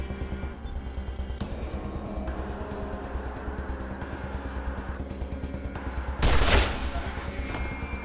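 Gunfire in the video game Wasteland 2, including friendly fire, with a rapid fusillade of shots over game background sound and a louder blast burst toward the end.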